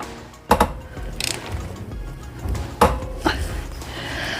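Sharp metallic ratcheting clicks from a torque wrench tightening lug nuts on a car wheel during a home flat tire repair, a few short bursts close by with quieter handling noise between.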